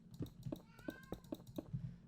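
A house cat meows several times in a row, short repeated cries at a steady rhythm, close and fairly clear over faint keyboard typing and clicking indoors.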